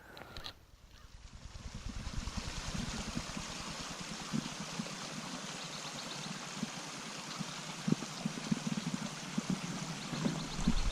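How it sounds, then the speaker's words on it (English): A creek beside a Pacific Crest Trail path toward Eagle Rock flows with a continuous rushing, gurgling wash, steady and fairly near, with small splashes and occasional knocks over the top. "We've got the creek beside us down here to our left."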